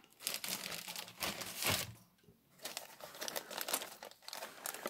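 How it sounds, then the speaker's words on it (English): A small plastic bag being handled while packing parts of a car model kit, giving a near, steady run of crisp crinkles with a short quieter pause midway. "I have to put that in a small plastic bag"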